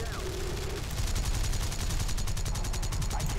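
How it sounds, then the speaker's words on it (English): A plane's 20mm cannon fires in the War Thunder video game, a rapid, even stream of loud repeating bursts over constant engine roar throughout. "So that's just our 20 right now firing."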